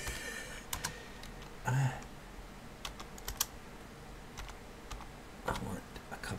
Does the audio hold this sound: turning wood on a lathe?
no